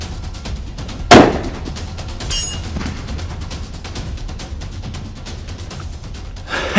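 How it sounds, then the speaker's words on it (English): A Beretta BRX1 rifle in .300 Win Mag fires a single loud shot at a range, a sharp crack early on followed by a fading echo and quiet outdoor ambience. "Third shot with this BRX 300 Win Mag, shooting the Sarco Powerhead blades."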